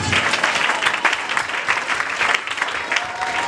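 A church congregation applauding together, dense steady clapping throughout, close and loud, with a faint voice underneath.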